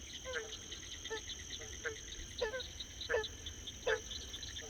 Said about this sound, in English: look at all these frogs